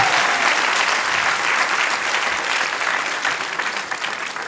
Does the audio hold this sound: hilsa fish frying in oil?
no